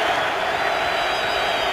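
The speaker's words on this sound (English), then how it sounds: "they're a vocal crowd here for the Rams" A loud, constant roar from a vocal Rams home crowd at a St. Louis football stadium during a 2015 game against the 49ers, with no distinct claps.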